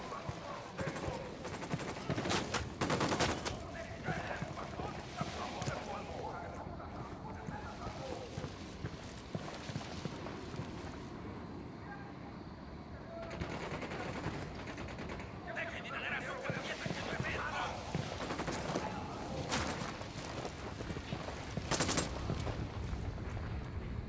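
Gunfire from a squad shootout in Ghost Recon Wildlands, scattered shots and bursts at moderate distance, mixed with game noise and voices talking over it.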